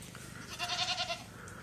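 Free-range goats bleating on a farm, a single wavering bleat rising out of soft background noise at moderate distance, with no voices.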